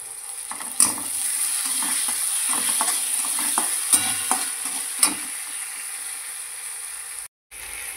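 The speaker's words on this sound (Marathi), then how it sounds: "नंतर आपल्याला टोमॅटो टाकून घ्यायचा आहे" Tomatoes go into a frying methi rassa bhaji: a steady bright sizzle runs throughout, broken by irregular spoon scrapes and clacks against the pan, close and fairly loud.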